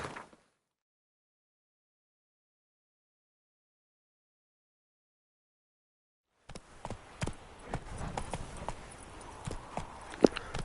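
Roach the horse's hooves clip-clopping in The Witcher video game on PS5, a steady walking rhythm of distinct hoof strikes that starts after a long stretch of silence, moderately close and alone.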